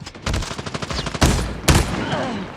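NA-45 Lycanthrope gun firing in a shooter video game, a rapid burst of loud close shots followed by two heavy single booming blasts, with no talk.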